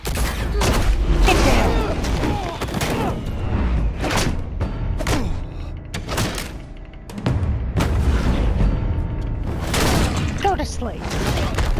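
Rifle and pistol gunfire from Batman: The Telltale Series, loud booming shots in uneven bursts with sharp impacts and a crash, while a voice talks over the action.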